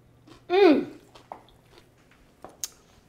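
Crunchy bites of a Persian Shirazi salad of cucumber and tomato, one loud close crunch followed by a few fainter chewing clicks, with no talk.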